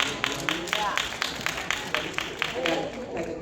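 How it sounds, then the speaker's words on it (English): Scattered audience clapping at a workshop session, several quick claps in a loose rhythm, moderately near, heard over a murmuring room with a voice talking. "I got like a clap over here"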